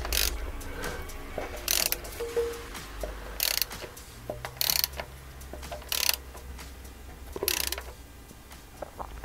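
Ratcheting clicks come in short spaced bursts as a bolt is tightened on a Triumph Stag, a series of crisp close pawl rattles separated by pauses in a quiet workshop.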